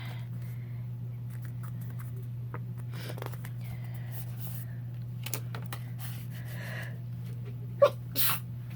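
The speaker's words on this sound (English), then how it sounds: "I had a sneeze that snuck up on me." A single quick sneeze bursts out near the end, following a long stretch of quiet room hum with faint shuffling.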